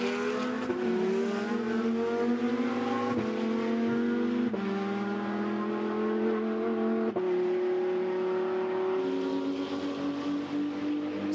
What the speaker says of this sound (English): So down the hill comes the Audi.